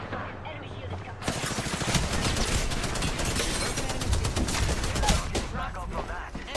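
Dense video game gunfire erupts in rapid, overlapping bursts after a brief quieter lead-in, sustaining a loud, crackling barrage of shots for several seconds.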